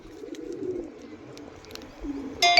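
A newly caught pigeon in very poor condition coos in low, rolling, throaty phrases, close and fairly soft, with a sharper bright chirp or click breaking in near the end.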